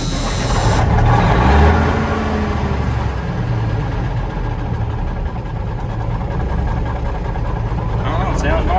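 A Ford L9000 truck's diesel engine cranks and catches, then settles into a loud, steady rumbling idle close by, with a person talking over the running engine.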